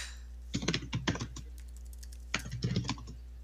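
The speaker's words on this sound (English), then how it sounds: "Go into the chat and start typing in bad words." Rapid typing on a computer keyboard into the Town of Salem game chat, two bursts of quick clustered keystrokes separated by a pause, close and fairly quiet over a steady low hum, with no talking.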